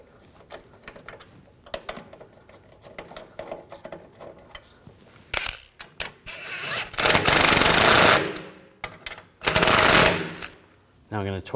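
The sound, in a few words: starting shock bolts on BMW 328i rear suspension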